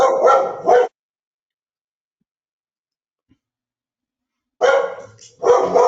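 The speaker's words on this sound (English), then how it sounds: "Sorry about the dog." A dog barks loudly in two short bursts during a water district board meeting, the first at the start and a second pair near the end, with near silence between.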